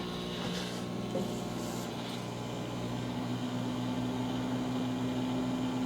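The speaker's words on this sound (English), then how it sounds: "So here we go with the microwave." Steady mechanical hum with a constant tonal drone of a microwave oven running on an Anker Solix C1000 power station, with a brief faint clatter early on.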